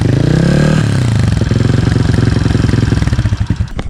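A Honda CRF110 pit bike with a 147cc big bore kit, smoking as it runs, revs up close and loud, then drops into a rough, pulsing idle that sputters toward the end. No one speaks.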